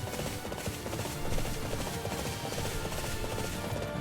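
Horse hooves clip-clop steadily in a Resident Evil–style video game, an even rhythmic trot that sits inside dense game music and ambience at moderate level.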